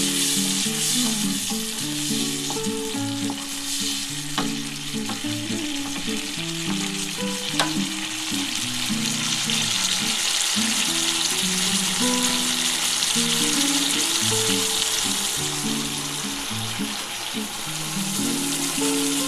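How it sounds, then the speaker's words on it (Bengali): Mustard paste water goes into a pan of frying parshe fish, giving a loud, steady sizzle and crackle with stirring throughout. "এবারে এই সর্ষে বাটার জলটা আমি ঢেলে দেবো"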